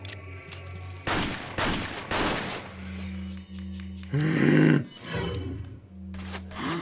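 Pistol shots ring out in Resident Evil 4, several sharp reports in irregular bursts amid game noise, fairly close and loud, with a brief louder roar near the middle.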